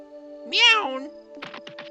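A cartoon cat in the Trails in the Sky video game gives one clear, drawn-out meow at close range over a steady background music drone, followed by a short burst of quick tapping sounds.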